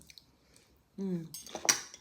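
A spoon stirs and scrapes through avocado pâté in a bowl, with soft wet clinks and squishes close by, briefly preceded by a short voiced sound.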